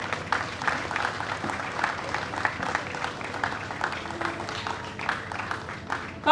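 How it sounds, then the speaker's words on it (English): An audience at a vaccination launch applauds Nurse Wendy Lillian, a moderate, uneven patter of clapping from a crowd with some background chatter mixed in, continuing steadily throughout. "please let us also give a resounding round of applause for Nurse Wendy"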